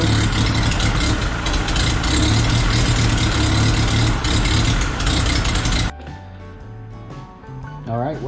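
Engine running rough on half choke, a loud, uneven idle for about six seconds before cutting out, followed by quieter low running and a brief voice.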